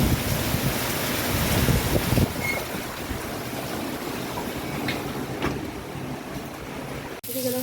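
Gusty wind roars through swaying trees during a rain and hail storm, a dense continuous rush that eases slightly partway through and cuts off abruptly at the end.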